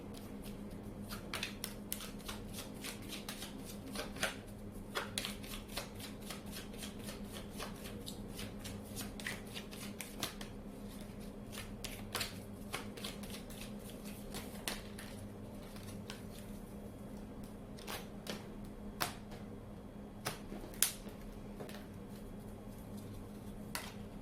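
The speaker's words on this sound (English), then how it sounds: "We're going to go ahead and pull 3 cards here out of this deck for just clarification." Tarot cards are shuffled and drawn from a deck, giving steady soft rustling with a scatter of sharp card snaps and flicks throughout, close and quiet, with no talking.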